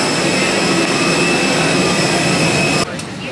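Jet aircraft engine noise heard while boarding a plane, a loud steady broadband roar with a faint high whine that drops off abruptly near the end.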